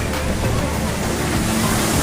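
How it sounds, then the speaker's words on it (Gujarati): Water at a family water park pours steadily as a large overhead bucket fills and tips automatically, a dense rushing splash like a waterfall, loud and continuous throughout without a break. "આ ઉપર ડોલ ભરાય એટલે ઓટોમેટિક હલવાઈ જાય"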